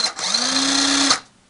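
Cordless power tool converted to run on a 24V battery spins up with a short high-pitched motor whine, rising briefly then holding steady for about a second before stopping, close and alone.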